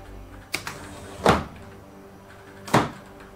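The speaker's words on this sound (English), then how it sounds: "So that second little thump you hear is the locking mechanism, very important so it doesn't fly open in flight." A model F-16 canopy mechanism gives a light click, then two dull thumps spaced about a second and a half apart as the lock releases and the canopy opens, close and fairly quiet.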